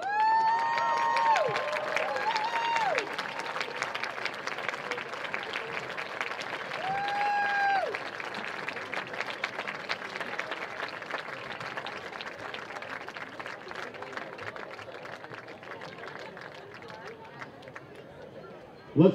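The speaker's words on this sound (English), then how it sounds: "Let's give another big round of applause to all of our awardees." At a football awards ceremony, a crowd in a gym claps for the honored team. The applause is sustained and moderately distant, and it fades slightly toward the end under some background chatter and sneaker squeaks.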